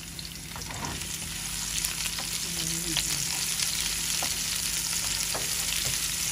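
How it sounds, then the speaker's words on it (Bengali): Garlic and onion sizzle in hot oil for a dal tempering, a dense, steady crackling fry up close with occasional stirring clicks and no talk. "এখন বাগাতে মনে হয় রসুন দিয়ে দিলাম, কটা পেঁয়াজও দিয়ে দিলাম"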